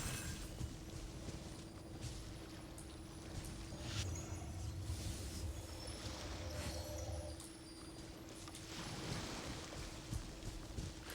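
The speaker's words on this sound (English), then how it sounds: "They did a very good job with the wave sound effects." Ocean waves in the game Genshin Impact's Fontaine region, a steady broadband wash swelling and easing in slow surges, with a low hum beneath, no voices.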